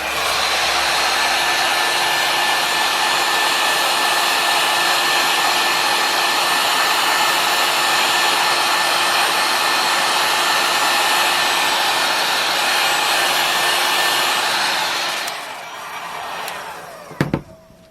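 A hair dryer set on high blows air over wet resin, making a loud, steady, close roar that continues unbroken for most of the span before shutting off, followed by a few faint handling knocks.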